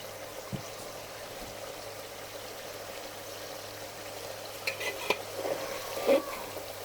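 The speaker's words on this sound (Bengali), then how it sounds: "এইভাবে মাংসটা কষিয়ে নেবেন।" Beef pieces being stir-fried in a pan while cooking a spiced beef bhuna, a faint steady sizzle with a few soft scrapes and knocks from stirring.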